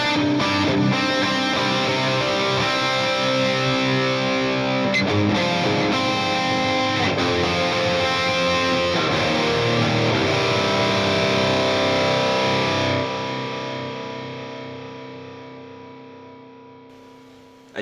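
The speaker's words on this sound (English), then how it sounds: "So it's just a big stereo ping pong delay" A distorted electric guitar run through a Line 6 Helix with a stereo ping-pong delay and cave reverb sustains thick, washy chords, then is cut off, leaving long echoing trails that fade slowly over several seconds, with no voices.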